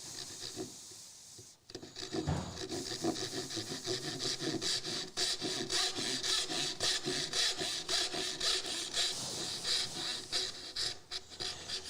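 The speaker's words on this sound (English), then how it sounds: "I'm using a dovetail saw blade that I cut down" Hand sawing wood with a cut-down dovetail saw blade, steady back-and-forth rasping strokes at a fast regular rhythm, close and fairly loud, with a short pause near the start and no talk.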